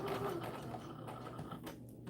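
A sewing machine stitches doll dress fabric while it is turned around a corner, a quiet steady mechanical whir with a low hum and soft rhythmic ticking, close by.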